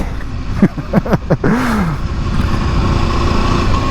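A 2023 Aprilia RSV4 sportbike engine blips through several sharp, close revs in quick succession, then settles into a loud, steady idle.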